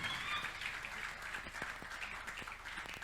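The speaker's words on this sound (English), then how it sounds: "you keep clapping until he reaches here" Audience at a teachers' event applauding as a guest walks to the front, moderate clapping with scattered sharper claps and a bright tone running through, steady for the whole stretch.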